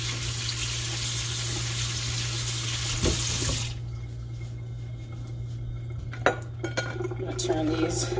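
Tap water runs steadily into a sink to rinse fresh basil and watercress, then shuts off, followed by scattered clinks and handling of dishes and utensils nearby.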